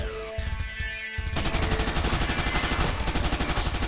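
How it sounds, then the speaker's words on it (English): A minigun fires in the top-down shooter Crimsonland as a steady, rapid, loud stream of shots that carries on to the end, following a short stretch of game music and effects. "I like the minigun."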